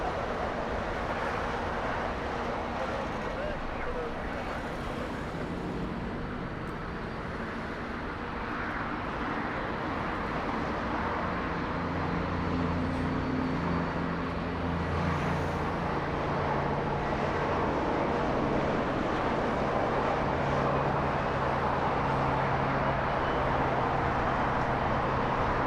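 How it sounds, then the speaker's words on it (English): A Boeing 757 with Rolls-Royce RB211 engines taxis at Los Angeles International Airport, a steady loud engine roar and rumble that holds throughout with a slight swell in the low tones midway. "Yes, the 757 powered by Rolls-Royce engines,"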